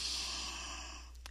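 A long, steady breath pushed out through the mouth during a gentle yoga session, a soft airy rush close up that slowly fades.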